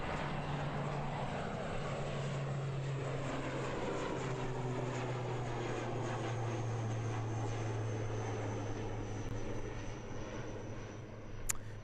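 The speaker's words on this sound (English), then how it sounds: "We do have an ATR taking off" An ATR 72-600 turboprop airliner of Air New Zealand takes off at Christchurch Airport, its steady propeller drone and engine roar holding loud and continuous with a slowly shifting pitch throughout.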